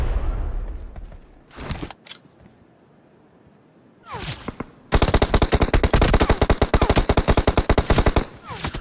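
Gunfire in BGMI/PUBG Mobile on the Livik map: a few scattered shots, then a loud, rapid sustained automatic burst rattling for several seconds.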